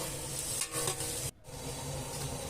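Onions and about thirty whole green chillies fry in oil in a large temple kitchen pot while being stirred, a steady close sizzle with scraping stir strokes and a brief drop near the middle.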